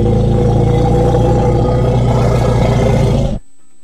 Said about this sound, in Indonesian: Gajah mendorong udara melalui pita suara dan membuatnya bergetar sehingga menghasilkan suara.